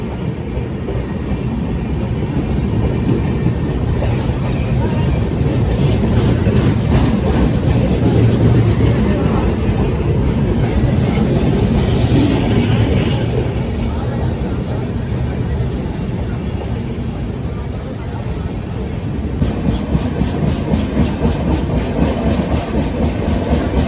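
A train runs as the Durg Jammu Tawi Express overtakes near Dholpur, with a loud, continuous rumbling roar and rattle that swells midway then eases, followed by quicker rhythmic clatter of wheels near the end.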